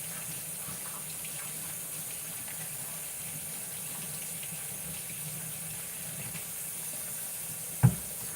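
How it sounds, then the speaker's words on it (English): Tap water runs steadily at a low level while hands are rinsed in a kitchen sink, a continuous soft splash ending with a brief knock near the end. "Let me just rinse my hands off."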